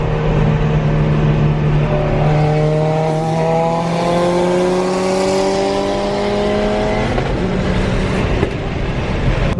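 Nissan GT-R and Lamborghini Huracan engines roaring close by in a street race, a loud sustained drone with rising harmonic sweeps as the cars accelerate hard, steady and continuous throughout.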